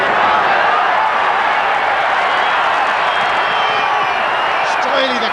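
Rugby stadium crowd at a 1993 Currie Cup match between Transvaal and Eastern Province, a steady broadband roar of cheering and shouting that fills the space, with a commentator's voice talking over it.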